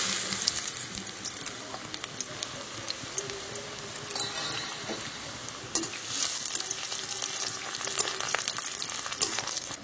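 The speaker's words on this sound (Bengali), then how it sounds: "তেল গরম হয়ে গেছে, এবার আমি বিট দিয়ে দিচ্ছি।" Beetroot frying in hot white oil in a wok (kadai) for village-style red rice, a steady close sizzle with stirring scrapes running throughout.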